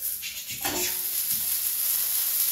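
Tomatoes sizzle steadily in a hot pan as they cook down and blister, a continuous close hiss with a brief stir or scrape partway through.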